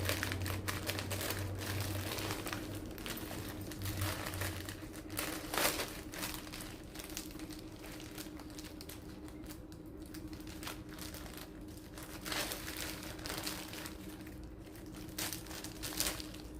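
Thin plastic packing covers are handled for small homemade spice packets, cardamom and cloves, giving quiet, close crinkling and rustling with irregular taps throughout and no talking.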